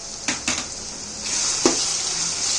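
Biryani masala powders sizzle in hot oil in a pan while being stirred, with a steady hiss that builds and a few sharp scraping knocks from the stirring spoon, close and without talk.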